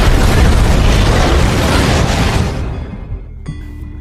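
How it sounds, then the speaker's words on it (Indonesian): A burning oxygen tank explodes in a scene from the TV series Manifest: a loud, sustained roaring blast that rumbles for over two seconds, then fades into quieter debris and a brief metallic ringing. "ledakan tersebut diakibatkan karena tabung oksigen yang terbakar"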